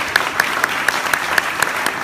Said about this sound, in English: Pat Conley deserves a big round of applause for the way he keeps this organization together